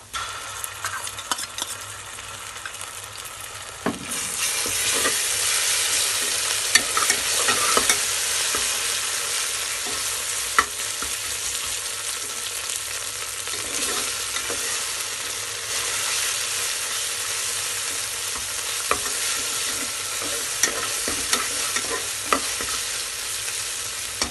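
Ginger garlic paste frying in a pan, a loud steady sizzle that jumps up as the paste goes in, with repeated scraping stirs throughout and no voices.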